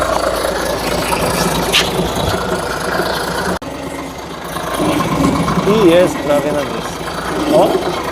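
A large generator set powering a 1940 airfield searchlight runs steadily throughout, a dense low mechanical drone with a brief dropout midway, while people talk over it.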